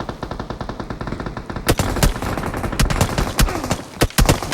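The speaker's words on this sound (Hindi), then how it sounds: "दूर से मुझे फायर आ रहा है" Gunfire in a battle royale video game, with bursts of rapid automatic shots and single loud cracks fired from a distance, dense and continuous throughout.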